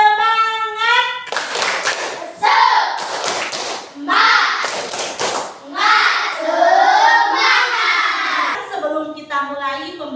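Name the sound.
class doing the 'tepuk semangat' rhythmic spirit clap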